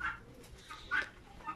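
Pigeons make soft, brief calls close by, two or three faint bursts over a low rumbling background in a short stretch.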